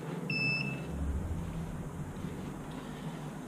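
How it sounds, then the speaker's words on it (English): A single short electronic beep from a Lawnba E1800/1600 robot lawn mower charging station rings out once over a steady low background hum. "The charger makes a single beep"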